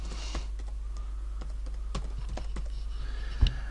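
Fingers tap on a computer keyboard in a quick, uneven run of light clicks, close and clear with one louder thump near the end.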